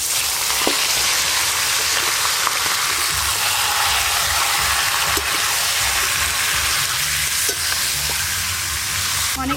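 Chicken pieces stirred in hot frying oil for a village-style chicken kosha, a loud, steady sizzle running throughout with occasional soft clicks from the stirring.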